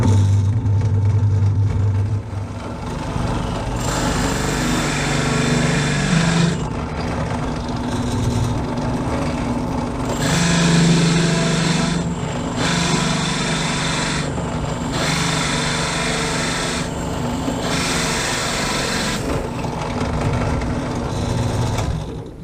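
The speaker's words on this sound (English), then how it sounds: "Got it drilled through." A power drill bores through a wooden wheel in repeated loud bursts of several seconds each, separated by short pauses, with a steady motor whine under the cutting.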